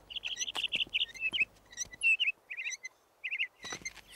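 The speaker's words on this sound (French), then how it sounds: "J'ignorais que tu étais un oiseau chanteur." Cartoon songbird, a small bluebird, sings a bright run of quick chirps and whistled trills, rapid phrases broken by short pauses, close and clear with no talk over it.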